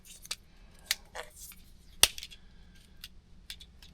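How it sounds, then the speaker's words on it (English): Electrical tape is wrapped around wires on an air compressor hour meter install, making a few sharp crackles and snappy tears scattered over a quiet background, close by and unaccompanied by speech. "I'm gonna tape these wires back up on them just like that"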